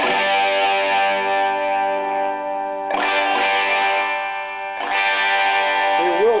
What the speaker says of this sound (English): it's all about wide open distortion and getting your amp to sound more distorted